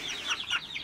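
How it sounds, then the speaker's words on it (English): A pet rooster clucks close by on a small home flock: a quick run of soft, warbling clucks over under a second, with no talking. "This is Sophie's favorite chicken, and he's a rooster"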